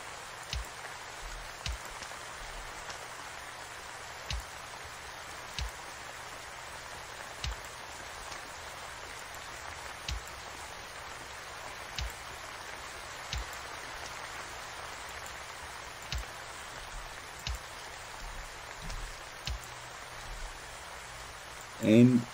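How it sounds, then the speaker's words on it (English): Steady rain in the video game Mad Tower Tycoon hisses softly and continuously, with periodic faint thuds or drops at regular intervals and a brief louder sound at the very end. "They did the sound of the rain in this game particularly well."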